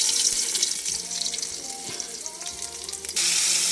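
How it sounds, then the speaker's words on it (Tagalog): Fish fried in oil with garlic, a steady hiss and crackle of sizzling with faint clinks, louder bursts near the end, no talking. "pag nagpiprito ako, nilalagyan ko ng bawang yan"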